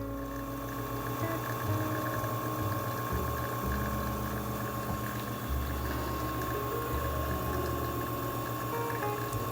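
A Lelit Bianca V3 espresso machine pulling a shot, its pump droning with a steady hum and a liquid gurgle over a long continuous stretch, close and constant.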